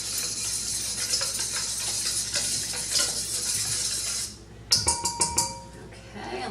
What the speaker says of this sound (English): we're going to get a whisk and just whisk that together